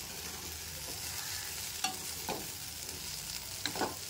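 Okra fry with coconut and garlic sizzles quietly in a pan while a spoon stirs it, giving a few soft scraping clicks over the steady frying hiss.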